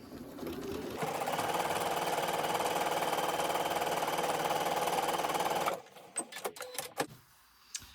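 A sewing machine runs in one continuous stitching burst for several seconds as it sews fabric pockets, close and loud, then stops and is followed by a few soft handling clicks and rustles.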